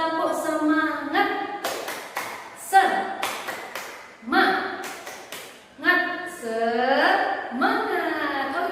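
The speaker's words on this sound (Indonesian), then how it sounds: "Yuk kita tepuk semangat dulu" Children do a rhythmic clapping chant in an elementary-school lesson, with sharp bursts of claps alternating with a voice leading in a speaking tone.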